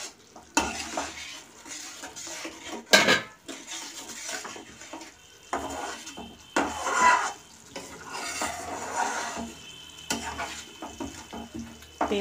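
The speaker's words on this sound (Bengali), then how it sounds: "ঢাকা দিয়ে দিয়ে কষিয়ে নেব, কিছুক্ষণ কষাবো আমি।" Spice paste of ground tomato, chilli and onion being stirred and sautéed in oil in a pan for a fish curry, with steady sizzling, scraping stirs and occasional utensil clinks throughout.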